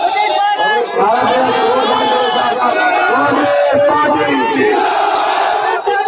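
A large crowd at a Congress party election rally in Jhunjhunu chants a slogan in loud unison, with voices shouting and cheering together and steady crowd noise throughout.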